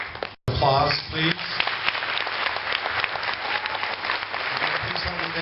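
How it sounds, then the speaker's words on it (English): An audience bursts into sustained applause at a Mr Toppenish 2010 pageant, a dense wash of clapping that follows a brief cut and holds steady, with voices mixed in. "Applause, please."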